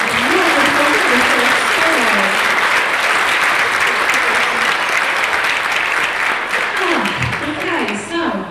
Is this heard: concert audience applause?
yes